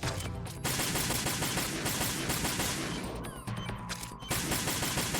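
Dense, continuous automatic gunfire from Metal Gear Solid 2 on European Extreme difficulty, with rapid overlapping shots running loud and steady throughout and only brief dips in intensity.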